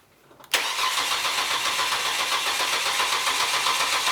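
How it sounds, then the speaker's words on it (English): A car engine cranks and catches abruptly after a quiet moment, then holds a loud, steady, rough running roar until the end. "Crank it again."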